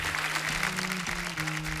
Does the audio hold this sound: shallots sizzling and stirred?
no